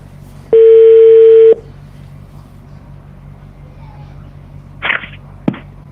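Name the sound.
telephone dialing a number to call back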